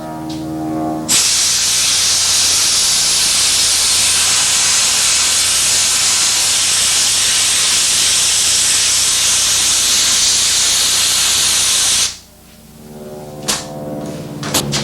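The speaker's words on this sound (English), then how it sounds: "use a sandblaster and clean those areas out because of what the MIG welder did to it" A sandblaster blasts a car body panel clean of spots left by a MIG welder, a loud, steady rushing hiss that runs unbroken for about eleven seconds before cutting off abruptly.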